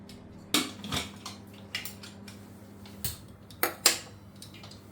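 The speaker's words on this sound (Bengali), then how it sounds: "এবার আমি আমটাকে সিদ্ধ বসাই জল দিয়ে দিচ্ছি" Metal pot and utensils clatter in a home kitchen as mango and water go into a pot to boil, with several sharp clinks and knocks spaced irregularly, close and fairly quiet, no talking.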